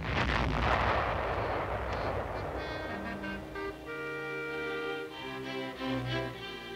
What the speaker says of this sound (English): From imitating the burst of nuclear fire